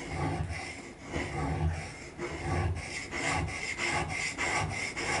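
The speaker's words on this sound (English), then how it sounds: "So I will give that a few more runs on the stone." A steel chisel blade rubbed back and forth on a sharpening stone, giving a steady series of close, gritty rasping strokes with brief pauses between passes.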